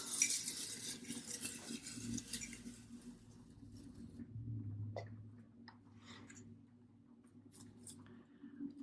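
Folded paper prompts are stirred around inside a jar, making faint, soft rustling and light scraping that shifts unevenly over a low background hum.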